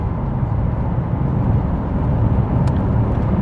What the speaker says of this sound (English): I could hear the wind hit the mirrors.